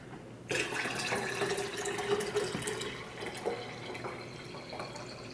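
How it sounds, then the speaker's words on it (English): Water runs steadily into cold brew coffee in a KitchenAid cold brew maker for several seconds, a continuous splashing, gurgling pour that starts abruptly and stays close and fairly loud. "I like to just top it off with water"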